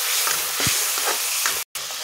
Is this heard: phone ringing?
no